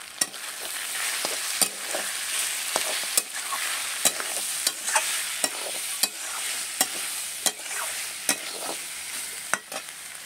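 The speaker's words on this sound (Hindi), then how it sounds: "ये देखिए मसाला देखिए अच्छा से भून रहे हैं" Masala spices roasting in a pan, stirred steadily: a continuous close sizzle broken by sharp, regular scrapes of the spoon against the metal, with no one talking.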